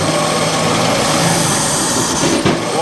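A car engine under light throttle, stumbling and close to dying, gives off a loud, steady mechanical roar that holds without pause for the whole stretch.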